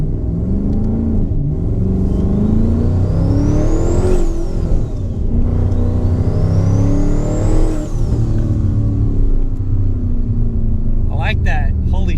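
A twin turbo Ford Mustang's engine revs hard and close, climbing in two long rising sweeps over a steady rumble while a voice speaks over it.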